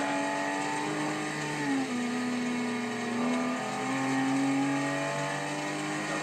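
A 2013 Aston Martin V12 Vantage S in Forza Horizon 2, its engine holding a steady, close drone with slight pitch shifts as it accelerates and shifts, with no talking.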